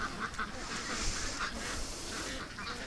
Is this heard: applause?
no